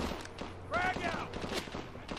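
Unsuppressed guns firing in Call of Duty Advanced Warfare form a continuous rattling fusillade under a brief whistling tone and a busy combat background.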